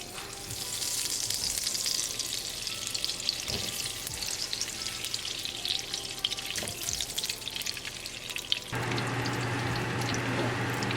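Desi ghee going into a hot kadai for panjiri, a dense steady frying hiss with a few sharp spatula knocks, close and fairly loud, the sizzle shifting to a smoother, louder tone near the end.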